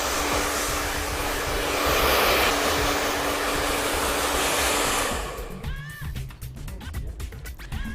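A hair dryer blows hard and close in a steady loud roar while hair is blow-dried for volume, then cuts out near the end, leaving quieter shuffling handling sounds.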